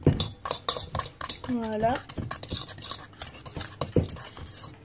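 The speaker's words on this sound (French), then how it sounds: "Vous allez les mélanger ensemble. Avec la fourchette." A fork clinks and scrapes against a salad bowl while mixing flour for a red fruit crumble. The taps are quick and irregular, and a voice speaks briefly.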